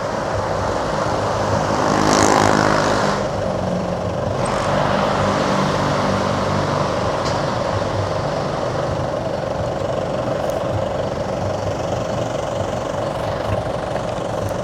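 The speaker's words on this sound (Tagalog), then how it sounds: "ibababa na po natin ang ating drone." A camera drone hovers and then descends over the NSCR San Fernando station area. Its motor gives a continuous whirring drone that swells briefly near the start and then holds steady and loud outdoors.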